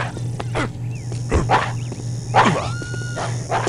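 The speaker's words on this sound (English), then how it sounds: "Damn dog." A dog barks in the video game Postal 2, several sharp yips and whimpering barks spread over a few seconds above a steady low game hum.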